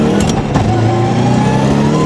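A car with a dogbox transmission upshifts while its engine revs, giving a loud close drone that dips and then climbs again at a lower pitch after the shift, with no voices.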